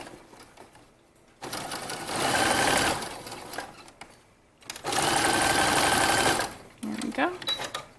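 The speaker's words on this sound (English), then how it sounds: "So that's what mine does and what I am sewing right now." A home sewing machine stitches a dress collar, running in two sustained bursts of rapid mechanical whirring separated by quiet pauses, with a short bit of handling noise at the end.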